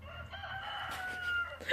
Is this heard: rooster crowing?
yes